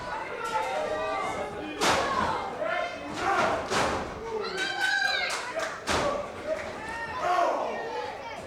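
Wrestlers in a QWA tag-team match trade strikes in the ring, with a series of dull thuds and slaps landing every second or so under the announcer's excited commentary and crowd noise.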